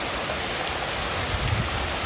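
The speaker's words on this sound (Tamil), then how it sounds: "எவ்வளோ மழை பாருங்கள் ஓடையில் பாருங்கள்" Heavy rain pours steadily near a rain-swollen stream, a dense continuous hiss of falling water and rushing flow with no pauses, close and loud.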